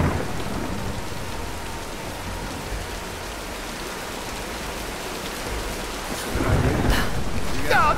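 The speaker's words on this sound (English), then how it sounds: "Storm." Heavy rain pours steadily during a thunderstorm in the 2013 Tomb Raider game, a dense close hiss with a deep rumble of thunder swelling toward the end.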